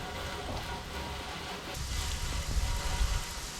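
A steady hiss of water spray pours onto a Koboldbike frameless bag to mimic heavy rain, growing heavier and more forceful partway through, with a low rumble underneath.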